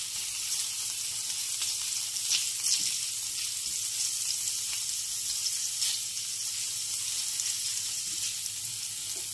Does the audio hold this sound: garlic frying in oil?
yes